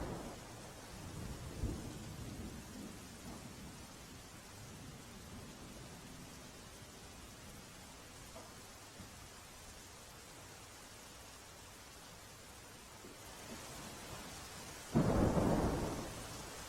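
Steady extremely heavy rain, about 12 inches in four hours in Borsad, Gujarat, pours down in a dense, continuous hiss, with a low rumble early on and a louder burst of downpour near the end.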